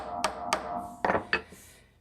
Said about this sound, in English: so I'm going to hammer that in.